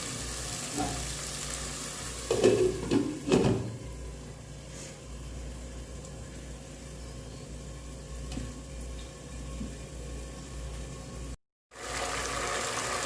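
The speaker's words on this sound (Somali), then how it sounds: "daboolanaynaa haddana ilaa yaanyada ay nooga shiilanto" Tomatoes frying in a covered pot, with a soft, steady sizzle and a few brief clattering bumps near the start, moderately quiet with no voices.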